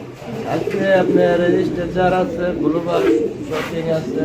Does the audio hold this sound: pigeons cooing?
yes